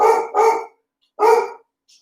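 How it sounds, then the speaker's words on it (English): A neighbouring dog barks three times, close and loud, with two quick barks followed by a third after a short pause. "I'm sure the dogs next door will start barking."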